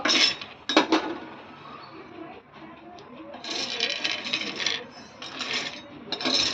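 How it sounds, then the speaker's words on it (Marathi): Tamarind seeds roast in a dry pan, rattling, clinking and scraping in repeated bursts as they are stirred, close and fairly loud. "आता खरपूस हे चिंचोके भाजून घ्यायचे आपल्याला"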